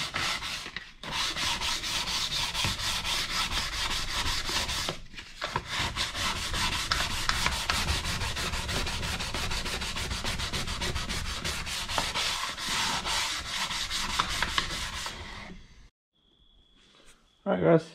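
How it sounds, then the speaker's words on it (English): Steady hand sanding with 400-grit sandpaper on a custom three-gauge centre pod for a Subaru, a close, continuous back-and-forth rasping for about fifteen seconds with one brief pause, then near quiet. "start sanding this down."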